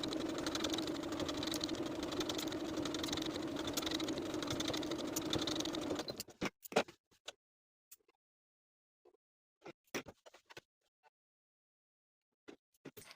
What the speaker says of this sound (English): we're going to take both darts to the sewing machine and sew from one point, following your stitching line to the top